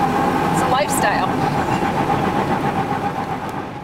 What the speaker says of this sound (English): This is a V12 engine, the only V12 engine that Marmon ever built.